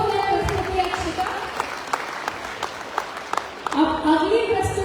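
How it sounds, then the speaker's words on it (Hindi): Audience clapping after a dance performance at a community society's annual cultural program, scattered claps under someone talking over a microphone. "जोरदार तालियां पहले तो अक्षता के लिए"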